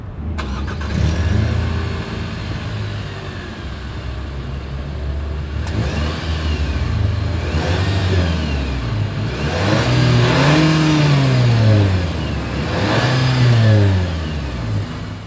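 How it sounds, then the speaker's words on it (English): A 2024 Nissan Sentra's exhaust rumbles at idle, then revs up and down several times in loud, rising and falling sweeps, close to the tailpipe. "As always, here is that exhaust clip."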